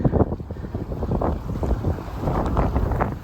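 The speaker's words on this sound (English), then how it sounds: "I was hoping the wind would hold off, but such is life." Gusty wind buffets the microphone outdoors beside a stream, producing a heavy, rumbling roar that rises and falls throughout with no speech.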